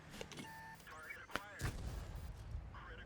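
A single sharp tank gun shot rings out in World of Tanks, fired from a Lynx light tank at a WZ, amid game beeps and a low engine rumble that carries on afterward.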